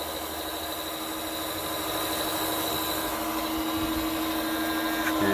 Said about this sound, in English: And suck up the rest of the oil from the oil filter.